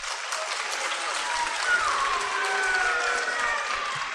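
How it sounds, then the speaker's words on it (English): An auditorium audience claps steadily for several seconds. The dense, even applause has a few voices and cheers mixed in. "Everybody give him a round of applause."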